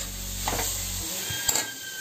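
Masala being sautéed and stirred into grated jackfruit for a jackfruit pus bhaji in a pan, with a steady sizzle and a few scraping stirs and a clink of a utensil against the pan, close and alone.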